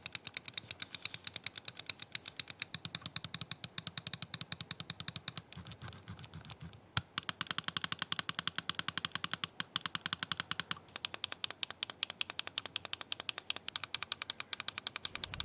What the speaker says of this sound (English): speaking of switches, in case you're curious, they sound like this.